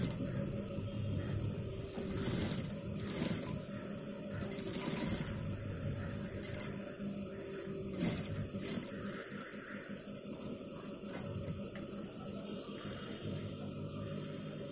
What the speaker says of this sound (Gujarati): સૌથી પહેલાં આ જે યેલો કલરનો દોરો દેખાય છે એની ઉપર એક સિલાઈ મારી લઈએ